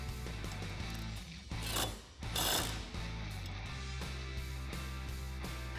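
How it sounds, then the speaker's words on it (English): Ratchet with a 13 mm socket tightening a bolt on a Jeep Wrangler JK mirror relocation bracket, a quick repeated clicking over steady background hum, with a louder scraping stretch midway. "So now we can tighten down that bolt with a 13 millimeter socket and a 5 millimeter Allen socket."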